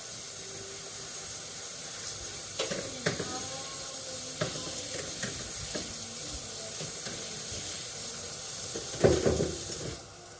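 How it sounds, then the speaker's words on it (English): Mushrooms sizzle steadily in a hot pan, a soft continuous hiss broken by a few clinks and scrapes of a utensil stirring. "The mushrooms are sizzling. I can hear it."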